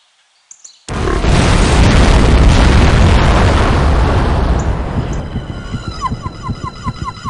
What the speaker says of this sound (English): there was an explosion of unknown origin in the town of Shilling, England